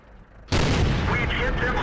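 A tank cannon firing APCR rounds in the World of Tanks video game, a heavy boom that hits suddenly and is followed by a long rumbling tail that lasts to the end of the clip.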